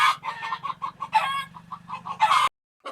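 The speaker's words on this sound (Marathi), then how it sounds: "तर ह्या बघा आपल्या गावरान कोंबड्या, प्युअर गावठी कोंबड्या आहे मित्रांनो" Free-range desi village chickens kept in a home yard cluck steadily in short repeated bursts, with a rooster crowing loudly nearby over the flock and a low steady hum beneath; the sound cuts out briefly before the clucking resumes.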